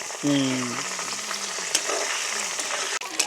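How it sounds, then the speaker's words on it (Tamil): Dried chillies fry in hot oil in a village home kitchen, a steady close crackling sizzle that runs alone throughout, with a brief clink of a utensil early on and a couple of sharp taps near the end. "எங்களுக்கு மிளகா வந்து பொரிஞ்சிட்டது"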